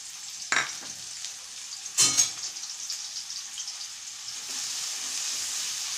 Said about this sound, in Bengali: এখন আমরা এর মধ্যে পেঁয়াজগুলো ছেড়ে দেবো